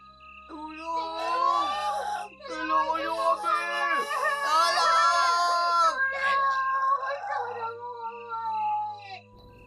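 Layered, sustained screams and wailing voices rise and fall for several seconds as a horror sound effect in an aswang story, loud and dense over a low drone, with a voice threaded through.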